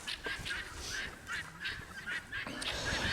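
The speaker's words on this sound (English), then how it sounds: "We got our guineas up here, a little choir. So they all start singing." Several guinea fowl calling together in a repeated chorus of harsh, rhythmic honking cries, fairly close and steady throughout with no talking.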